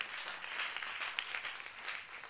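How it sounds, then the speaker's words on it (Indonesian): Congregation clapping during a church sermon, a brief, fairly faint patter of applause sustained for a couple of seconds. "tepuk tangannya boleh lebih dahsyat lagi buat Yesus Tuhan kita"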